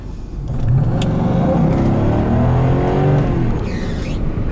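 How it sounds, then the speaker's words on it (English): A Mercedes-Benz W140 S500 V8 revs up under load during a drive, engine swelling from a low hum into a loud sustained drone with a faint high belt squeal riding on top. "you got a belt squeal, just a tiny bit there"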